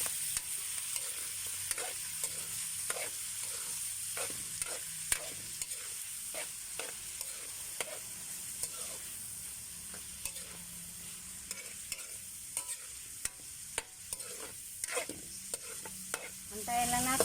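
Meat for pansit bihon frying in a pan in an outdoor dirty kitchen, a quiet steady sizzle broken by regular scraping and clacking stirs of a utensil against the pan.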